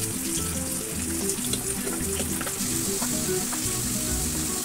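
Potatoes and small pieces of mango simmer in a pan, a steady bubbling sizzle with occasional stirring, close up and continuous throughout.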